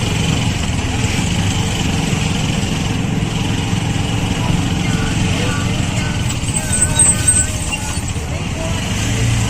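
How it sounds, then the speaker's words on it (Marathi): Busy city road traffic during the Rakshabandhan holiday in Dombivli, with a steady close drone of car and auto-rickshaw engines idling and revving, continuous throughout, under a voice talking. "आणि रक्षाबंधन असल्यामुळे खूप ट्रॅफिक आहे इथे."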